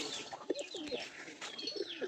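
Several pigeons coo softly and repeatedly close by, their low throaty calls overlapping with faint chirps in the background.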